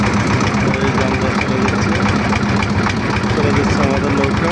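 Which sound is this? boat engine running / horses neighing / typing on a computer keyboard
boat engine running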